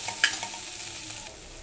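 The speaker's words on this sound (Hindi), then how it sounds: "इसी कढ़ाई में थोड़ा सा तेल डाल के इस आलू को भी मैंने दे दिया है" Potatoes fry in a little oil in a kadai, a close, even sizzle with a faint scrape or stir near the start, brief and steady, with no voices.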